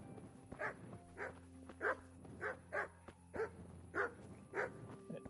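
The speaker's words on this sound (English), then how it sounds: "This dog, what are you doing?" A dog in the medieval open-world game Kingdom Come: Deliverance barks in a steady, evenly spaced series of about eight moderate barks over a low ambient game hum.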